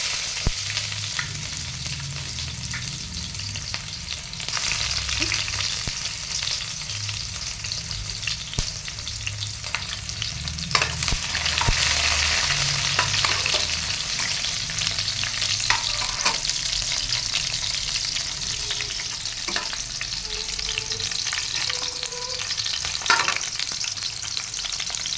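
Cloves, cardamom and black pepper frying in hot oil: a continuous loud sizzle with stirring scrapes and occasional sharp spatters, close and steady with no voices.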